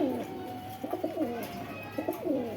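Pakistani Giribaj pigeons coo close by in a few short, throaty bursts, one early, another around the middle and a third near the end, over a quiet background.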